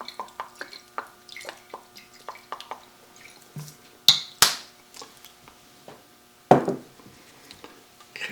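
Tomato gravy for smothered Swiss steak being stirred with Worcestershire sauce, giving a run of small wet clicks and squishy drips at an even pace, with a few louder spoon knocks against the pot, close and fairly quiet.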